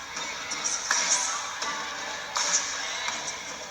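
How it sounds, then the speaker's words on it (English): Fans at a Stanford versus Pitt women's volleyball match in Maples Pavilion keep up a steady crowd roar with rhythmic stomping thumps and clapping, heard under an announcer's voice. "Fans on their feet, stomping it out, clapping it up."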